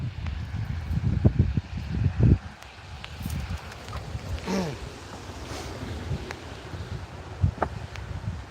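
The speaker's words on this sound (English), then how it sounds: "the wind is pushing them up here, Nico." Wind gusts outdoors by the water during a rainy crappie and perch fishing trip, a broad steady rushing that buffets the microphone and is loudest in the first few seconds, with faint scattered knocks and no clear talk.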